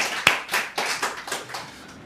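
A church congregation gives a short round of applause: fairly quiet, rhythmic claps that thin out and fade over about two seconds.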